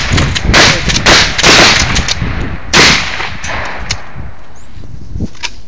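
A shotgun fires a slug at a camper: several loud sharp blasts in quick succession ring out close by, followed by shorter cracks and fading clatter, with brief shouts in between.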